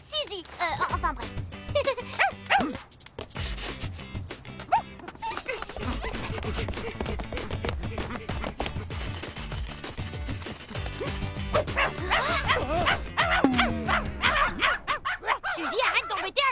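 A cartoon dog barks and yelps in short bursts, mixed into busy background music and sound effects, with character voices talking over much of it.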